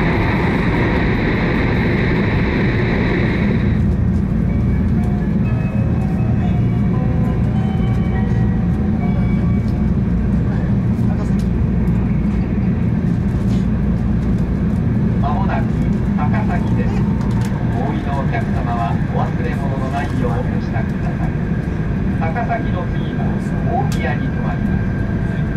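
Steady, loud rumble of a Shinkansen bullet train speeding through a long mountain tunnel on the Joetsu line, a dense roar that stays constant throughout with faint higher whines layered on top.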